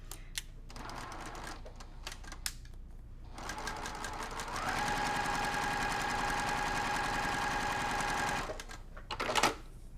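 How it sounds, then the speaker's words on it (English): Sewing machine stitching quilt pieces with Aurifil thread, a steady close whir running for several seconds after short bursts and pauses, with no talk over it. "it is really important to stitch as close to that dotted line as you can"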